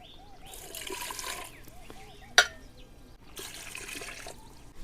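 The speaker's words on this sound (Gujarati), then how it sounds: "પછી પાણી નાખી દઈશું." Water is poured into a pressure cooker holding salted bitter gourds, a close trickling splash in a couple of bursts, while a person talks.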